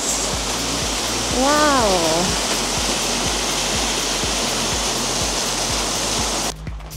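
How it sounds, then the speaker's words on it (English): A waterfall near Bergen, Norway, roars loud and constant from nearby, with a person exclaiming once over the rush, a low steady thumping underneath, and the sound dropping away abruptly at the end. "Surprise waterfall! Look how pretty that is."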